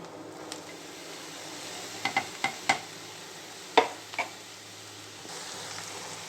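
Ridge gourd pieces frying with onions in a pan give a soft, steady sizzle, broken by a handful of sharp clinks as a spatula strikes the metal. No one talks.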